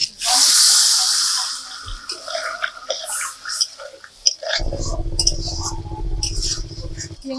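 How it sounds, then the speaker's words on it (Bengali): Water poured into a hot pan of shrimp fried in spices, starting with a loud hiss and splash and settling into a steady, bubbling sizzle with clinks from utensils. "মশলার সাথে কষিয়ে নিয়েছি এবার পরিমাণ মতো জল দিয়ে দেবো"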